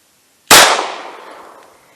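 A single Federal Punch round fired into ballistic gel: one sharp, loud blast with an immediate attack, then a long ringing tail that fades away over about a second and a half.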